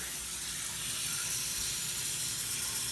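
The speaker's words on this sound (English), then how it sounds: "the only thing left that we have to do is just add water." Water runs steadily into a slow cooker of chicken stock, a continuous close hissing pour that holds at an even level for the whole stretch, without any voices.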